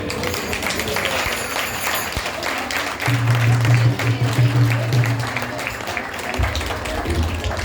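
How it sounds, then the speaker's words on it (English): An audience at a Janmashtami 2024 drama applauds loudly and continuously, a dense wash of clapping with a few cheers, while a voice speaks over it partway through. "Big round of applause."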